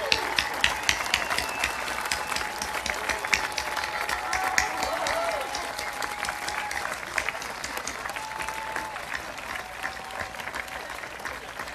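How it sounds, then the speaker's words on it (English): An awards crowd at the American Royal BBQ Open applauds international barbecue teams, a steady field of clapping with distinct nearby claps on top, tapering gradually over about twelve seconds, with faint voices mixed in. "please stand up and help me in giving these people a round of applause"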